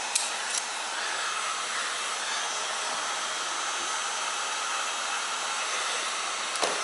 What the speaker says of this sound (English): the only reason I'm really heating the plastic is to help with the so the glue doesn't harden up too fast.